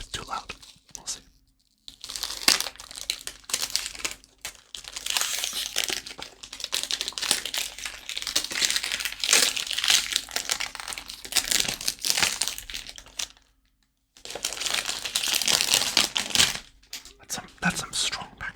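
Stiff plastic packaging around a Montblanc Explorer is crinkled and torn open close up in repeated bursts of crackling and ripping, broken by brief pauses, while a person speaks softly now and then.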